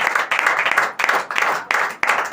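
A church congregation claps in praise: loud, close, rhythmic group hand-clapping in a steady beat, with bursts of roughly even spacing.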